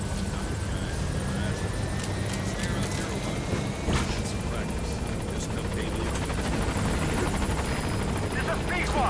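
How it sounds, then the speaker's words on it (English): Helicopter arriving at a landing zone in Metal Gear Solid V, a loud, continuous rotor and turbine roar with high whine filling the whole stretch, with a radio voice speaking over it. "Board the chopper. Arriving shortly at LZ."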